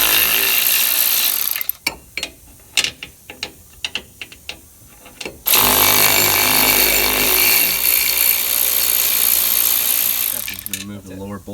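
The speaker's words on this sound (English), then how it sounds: "Handy little power ratchet here with a socket, short well socket on there." A power ratchet fitted with a short well socket spins off strut nuts on a Nissan Titan, a loud continuous whirring buzz broken by a stretch of clicks and knocks as the tool is repositioned.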